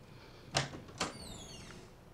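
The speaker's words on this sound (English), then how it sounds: "now we are going to transition to Rick opening the door" A door opening in a film scene: two sharp clicks or knocks about half a second apart, followed by a faint squealing creak that fades, all alone with no talk.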